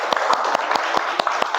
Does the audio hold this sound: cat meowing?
no